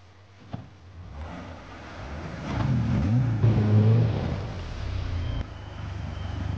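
A boat motor on a creek revs up to jump a fallen tree, rising from a low idle to a loud, swelling engine roar that peaks midway and then settles back down.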